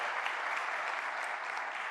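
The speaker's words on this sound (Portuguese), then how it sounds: "Vamos dar uma salva de palmas bem forte a essa palavra maravilhosa." A congregation at a church sermon gives a strong round of applause, a continuous dense patter of many hands clapping, even and sustained throughout at moderate distance.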